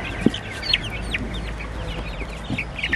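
Coucou chickens, a breed raised for meat, cluck nearby in a farmyard: short clucks and a few higher calls come out in an uneven rhythm over a steady outdoor background, with no talking.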